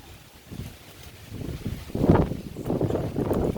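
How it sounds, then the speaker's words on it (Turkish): Gusty wind buffets the microphone in low rumbling surges, strengthening toward the end with a strong blast in the middle. "Arkadaşlar böyle bayağı bir rüzgar var böyle burada."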